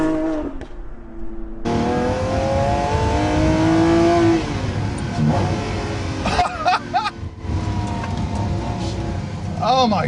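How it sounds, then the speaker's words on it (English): A Lamborghini Sián V12 engine revs hard and loud from inside the cabin, rising in pitch through gears with sharp downshift blips and crackles, a voice speaking briefly over it. "And I just want to hear that engine again."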